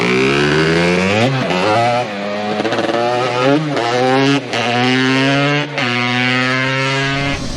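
A 250R engine revving and accelerating hard through several gear changes, loud and close, with rising pitch sweeps that drop at each shift, while testing gearing and jetting before a dunes trip.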